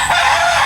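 A brief, loud rooster crow close by in a backyard, a single harsh burst lasting under a second.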